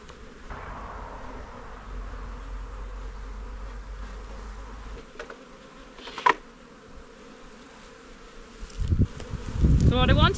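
Bees buzz around a garden beehive that is being moved and replaced, a soft continuous hum near and far that is broken by knocks, wooden clunks and handling noises from the hive toward the end.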